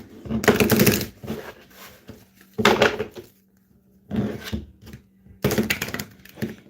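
Four bursts of riffle shuffling, each about a second of crisp card flutter, separated by pauses with a faint low hum in the background.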